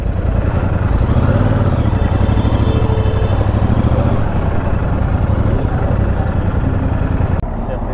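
A Royal Enfield Super Meteor 650 motorcycle engine idles and rumbles steadily nearby at a roadside dhaba in Nainital, a continuous low throb lasting several seconds.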